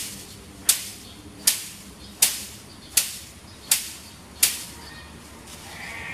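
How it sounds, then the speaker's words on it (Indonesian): Two palm-rib brooms (sapu lidi) knocked together six times at an even pace, each a sharp, bright, rattly strike with a short brushy decay, close and clear with no talking. "kalau misalkan kedua sapu lidi ini saya benturkan"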